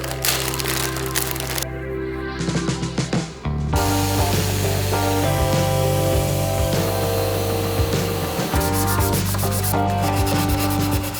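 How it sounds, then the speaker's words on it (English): Electric sander working on a painted van interior with angled walls, a loud continuous whirring grind with a steady hum, briefly dropping off and then restarting at full strength. "got a sander, which should be able to get into all the little corners"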